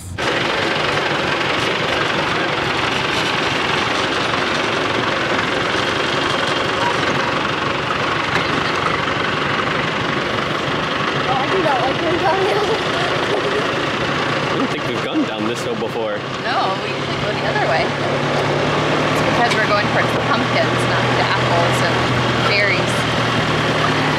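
A tractor engine drones steadily as it pulls a wagon through a pumpkin patch, a continuous low rumble with vibration throughout, heard up close under scattered talk from riders.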